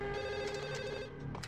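A telephone rings in the video game Max Payne, a steady electronic bell tone heard alone and fairly faint over a low background hum for about a second and a half.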